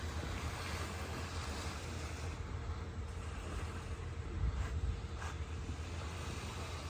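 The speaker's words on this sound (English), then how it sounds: "And here's your beach, everybody, and your sunset." Waves wash onto a beach on Chesapeake Bay at sunset, a steady low surf roar mixed with wind buffeting the microphone, swelling slightly near the end, with no talk.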